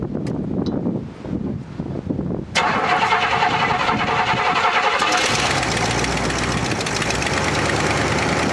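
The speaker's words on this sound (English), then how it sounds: "turn the key, let it spin over for about 3 seconds, then stop, prime it again, and spin it over, then it'll start." A 1967 Buick engine cranks and then catches in 27°F cold, the starter spinning briefly before the engine fires into a loud, steady run that builds and holds close to the microphone with wind noise.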